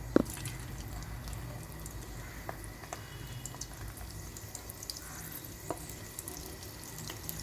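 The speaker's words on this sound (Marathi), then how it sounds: "आता आपण याला तळून घेऊया" Snack frying in hot oil, a continuous dense sizzle and bubbling with occasional pops, steady and close, with no talking.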